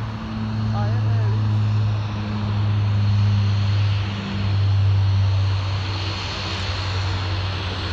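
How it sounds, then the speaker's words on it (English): A propeller plane taking off, its engine a loud steady drone with a low hum that swells and dips slightly, heard close up without talk. "There's a moment taking off."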